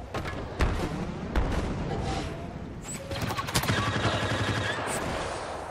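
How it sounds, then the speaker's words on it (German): Blaster and gun fire crackle in rapid, overlapping bursts during a Star Wars Battlefront match on PS4, with sharp reports and booms over a steady battle din. "Da war ich schon voll unter Beschuss"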